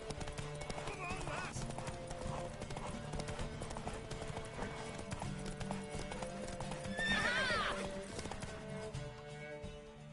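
A horse in the video game The Witcher 3 clip-clops steadily and gives a loud whinny partway through, heard among game music and ambience.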